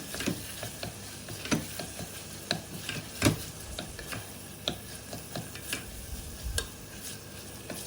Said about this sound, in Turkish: Salçanın kokusu çıkana kadar güzelce kavuralım.